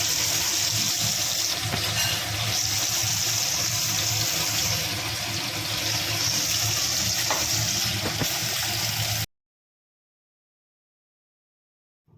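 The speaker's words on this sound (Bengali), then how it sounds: "মাছগুলো আমার ভাজা হয়ে গেছে" Climbing perch (koi fish) frying in a pan of oil, a dense continuous sizzle and bubbling held close and loud for about nine seconds before cutting off to silence, no voices.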